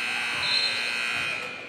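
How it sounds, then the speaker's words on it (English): A buzzer sounds during a high school girls' basketball rivalry game, Olathe West at Olathe North. It is a single sustained electronic tone lasting well over a second, loud against faint gym background. "A preemptive buzzer."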